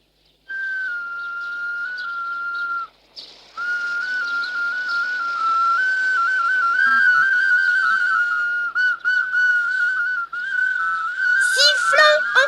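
Sustained melodic whistling, a steady tune held with brief pauses, close and clear, ending in a few quick rising and falling whistled trills.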